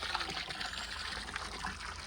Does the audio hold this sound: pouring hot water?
yes